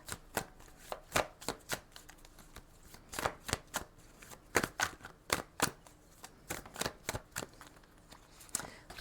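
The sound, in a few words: tarot cards being shuffled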